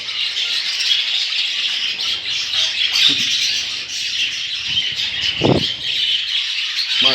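Busy, high chattering and squawking of budgerigars, continuous and close, with a few short knocks and thumps mixed in.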